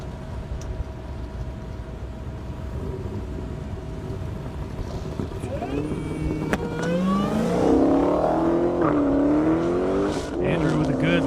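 A supercharged Mustang drag car launches on an airstrip at a half-mile event: engine noise rises into a loud, climbing roar about halfway through and holds strong to the end, with a commentator talking over it.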